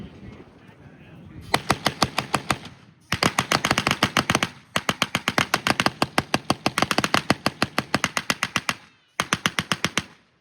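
A Browning machine gun, a design nearly a century old and still in military service, fires during a museum demonstration in long rapid bursts separated by short pauses. The shots are loud and close, with a faint voice before the first burst.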